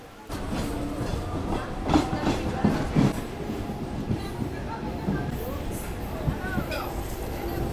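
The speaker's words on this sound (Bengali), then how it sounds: "আমার ট্রেন ছেড়ে দিল তমলুক রেলওয়ে।" A Howrah–Digha local train pulls out of Tamluk station after a one-minute halt, a steady rolling rumble with rhythmic wheel clacks and occasional squeals close by, voices faint in the background.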